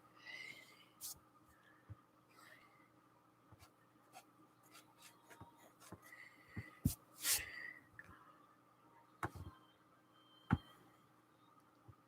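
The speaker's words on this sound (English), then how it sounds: "I'm going to erase some of that." Pencil drawing of a small flower on paper being erased, a quiet scratchy rubbing with scattered light taps and scrapes, faint and close, with no talking.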